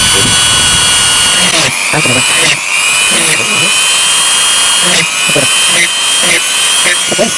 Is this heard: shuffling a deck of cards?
no